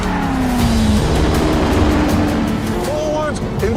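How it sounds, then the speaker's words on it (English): A car setting off and accelerating hard, its engine note climbing through the gears with tyres pumped up very hard, loud and close throughout with a whine rising in pitch, heard from on board without talking. "I set off after Hammond."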